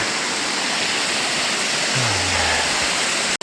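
Steady broadband rush of a waterfall in an Alberta canyon, close and even throughout, with a faint low tone sliding briefly midway and a sharp knock at the end.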